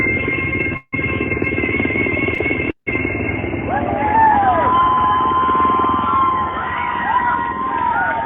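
A helicopter flyover at a stadium during the national anthem, picked up on a phone recording: a steady loud rotor roar with crowd noise and faint whistling tones, cut by two brief dropouts.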